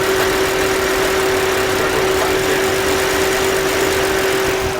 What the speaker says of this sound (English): Try to get a picture of the engine shaking.